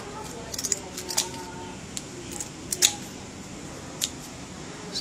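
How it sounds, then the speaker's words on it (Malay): Scissors snip through a fish while it is being cut open in a home kitchen, giving a series of sharp, irregular clicks and crunches, with a person talking quietly between cuts. "Pakai gunting lah senang."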